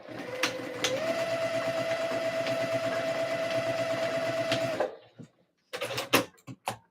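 A sewing machine stitches dress pleats in a steady, continuous whirring run for several seconds, then stops, followed by a few short clicks and handling noises.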